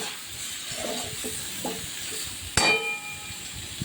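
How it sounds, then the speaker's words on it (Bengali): Chopped capsicum, carrot, papaya and potato stirred in a hot pan for chicken stew, a gentle scraping stir over a faint hiss with one sharp metallic clang near the end, close by and without talk. "এবারে এই সবজিগুলো হালকা করে কিন্তু আমি নেড়ে নিই"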